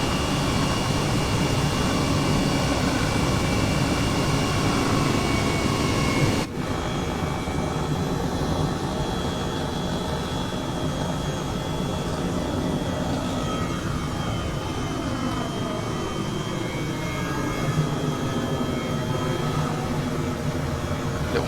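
A freeware helicopter hovering over an airfield in Microsoft Flight Simulator 2020 gives a loud, steady engine and rotor drone that holds even throughout, with one brief dip in tone early on and no voices.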